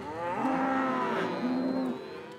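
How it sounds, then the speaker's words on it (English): Cattle low in long, drawn-out moos during a fall cattle drive through the Sierra Nevada foothills east of Bakersfield, two sustained calls close and loud over a steady herd and outdoor murmur. "the Carvers drive their cattle 25 miles every fall"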